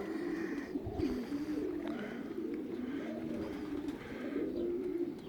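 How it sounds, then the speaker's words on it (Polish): Racing pigeons coo softly and repeatedly during a morning release, low murmuring calls overlapping in a steady stream, fairly close, with no talking. "Gołębie niech sobie spokojnie wychodzą, nikt im tutaj nie będzie przeszkadzał, nie będzie płoszył."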